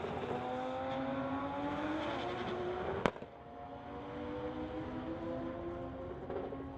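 Two drag racers, a Toyota Supra and a 2018 Audi, tear down the strip, engines howling with rising whine over a sustained roar, broken by one sharp crack midway.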